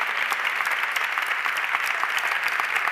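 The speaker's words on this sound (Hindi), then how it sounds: "प्रभु को जोर से ताली बजाएंगे।" A church congregation in Goa claps loudly and continuously after a prayer, a dense, even wall of applause from many hands close by.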